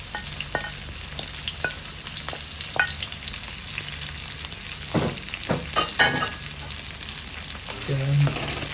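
Ginger sizzles in a hot pan for squid adobo, a steady close frying hiss broken by scattered clicks and stirring scrapes, with no talking.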